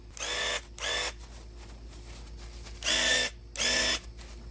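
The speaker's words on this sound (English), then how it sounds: "show you how easy it is to spray with the spray paint gun" A spray paint gun sprays paint onto a hanging piece, sounding as four short, loud bursts of hissing spray separated by pauses over a steady low hum.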